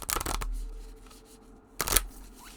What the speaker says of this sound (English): there is no right or wrong way to shuffle. Just shuffle.